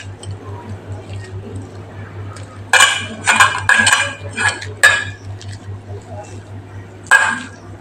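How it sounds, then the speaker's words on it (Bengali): Boiled potatoes are mashed by hand in a bowl, giving a series of soft squishy presses and clinks in short bursts, close by, over a steady low background hum while someone talks. "আলুটাকে আমি আগে ভালো করে মেখে নিচ্ছি"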